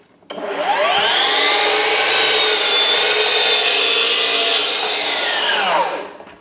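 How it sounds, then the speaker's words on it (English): A FLEX 12-inch miter saw slices through a warped 1x12 decking board, its motor whining up loud and steady with the blade rasping through wood for about six seconds before spinning down. "first cut on the saw."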